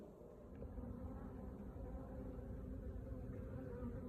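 Honey bees buzzing around hives at an apiary with newly arrived swarms, a dense, steady low drone of many insects, close and continuous, with no talk.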